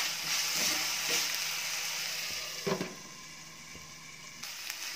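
Adamant creeper (pirandai) sautés in a pan for a tamarind gravy, giving a soft, steady sizzling hiss with a few light stirring knocks, close and moderately quiet.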